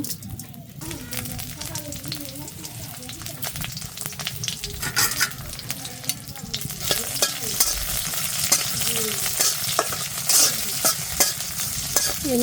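Cumin, coriander, nigella, radhuni and other whole spices fry with vegetables in hot oil, giving a steady close sizzle with repeated scraping and stirring while someone talks over the cooking.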